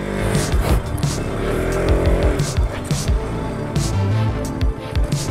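A KTM RC 200 motorcycle rides up a hillside trail, its engine revving close and loud with uneven throttle bursts while a rider talks over it.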